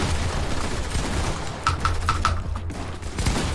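Gunfire in the video game Fortnite: a brief cluster of several quick, sharp shots in the middle of the clip over a steady bed of game sound, with no talking.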